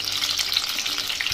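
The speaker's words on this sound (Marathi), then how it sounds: "दोन्ही साईडनी छान आपण पकोडे तळून घेणार आहोत।" Paneer pakoras fry in hot oil on a high flame, giving a dense, steady, close sizzle and bubbling with no talking.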